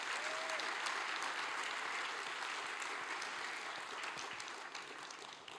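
A hall audience applauds to welcome committee members at a Native Hawaiian gathering, dense steady clapping that fades slightly toward the end, with no speech over it.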